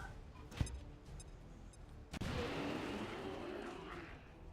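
A grenade goes off in XCOM 2: War of the Chosen, a sharp crack followed by a sustained rumbling, hissing burst of debris and fire, after a fainter earlier pop, all fairly quiet against game ambience.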